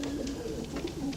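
Pigeons in a Yorkshire mining town loft coo softly and repeatedly, a low rolling murmur of several birds close by with no voices over it.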